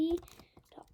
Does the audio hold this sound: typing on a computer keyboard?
yes